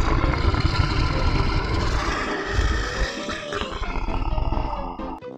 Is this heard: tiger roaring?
yes